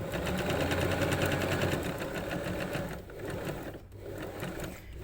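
A sewing machine stitches a narrow doubled rolled hem in cotton fabric, running in a fast, even whir that slows and stops partway through, then starts again briefly and more quietly.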